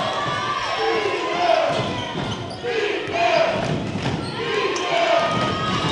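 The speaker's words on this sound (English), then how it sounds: "Crowd chanting defense for Second Baptist." Crowd at a girls' state semifinal high-school basketball game chants in a rhythmic, repeated pattern over steady arena noise, with a commentator talking throughout.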